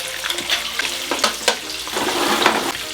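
Eggs frying in fat in a pan, a bright continuous crackling sizzle with occasional spatters and light scraping, near and loud, with no one talking.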